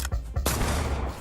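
Small pixel-art bullet explosion in the game Voidigo: a sharp burst at the start, a second, larger boom just under half a second later, then a rumbling roll that fades slowly.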